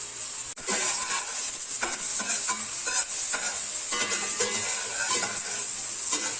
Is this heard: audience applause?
no